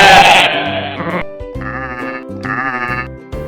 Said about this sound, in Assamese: ছাগলীৰ মাতটো শুনো আহাচোন।